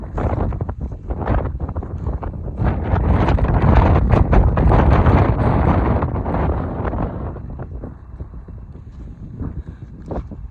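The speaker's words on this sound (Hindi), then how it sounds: "हवा बहुत तेज़ आ रही है, मेरे को लग रहा है कि आवाज़ थोड़ी कम आएगी मेरे को" Strong outdoor wind buffeting a microphone, a dense low roar that swells to its loudest in the middle, then eases while gusts keep thumping close in, with no speech heard.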